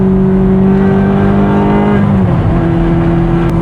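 A Ferrari F430 with an iPE exhaust revs loud and close, its sharp harmonic wail holding high then dropping as the revs fall, before settling into a steady roar.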